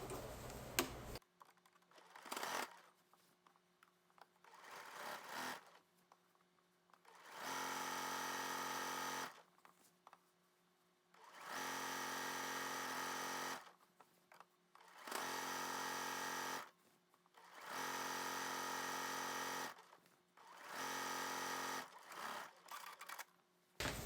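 A sewing machine stitches a skirt hem about 1/8 inch from the edge, running in repeated steady whirring bursts of a few seconds each, separated by short pauses with faint handling clicks.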